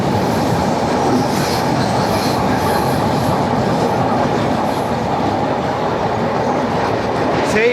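The 18047 Shalimar–Vasco da Gama Amaravati Express rolls across the double-decker road-rail bridge over the Godavari, heard from on board as a loud, continuous low rumble of wheels and carriages, steady throughout with no talk.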